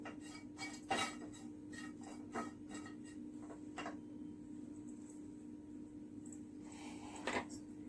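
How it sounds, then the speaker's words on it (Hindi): Sliced dried coconut is roasted and stirred in a pan, heard as faint, sparse metallic clinks and scrapes of a utensil against the pan over a low steady hum. "ये स्लाइस करके अभी मैं इसे भून के लेती हूँ।"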